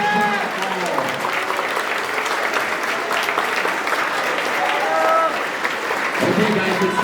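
Continuous applause from the audience at an upper school Student of the Quarter awards ceremony, honoring the nominees; steady crowd clapping throughout with voices mixed in.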